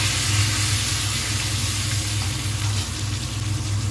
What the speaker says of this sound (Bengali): টমেটোগুলো দিয়ে দিচ্ছি, টমেটো দিয়ে একটু নেড়ে চেড়ে নেব